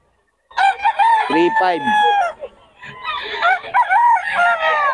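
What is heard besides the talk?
stag, young gamecock rooster crowing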